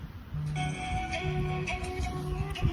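A telephone rings with a repeating electronic ringtone pattern, several short tonal bursts in steady rhythm, fairly close and clear over faint background noise.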